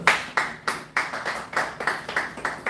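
Scattered handclaps from a small seminar audience, about eight to ten separate claps spread unevenly across a few seconds, each sharp and close, with no voices.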